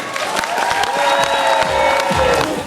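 Crowd at a Sabantuy beauty pageant applauding and cheering, dense steady clapping mixed with shouts and whistles filling the whole moment, loud and close.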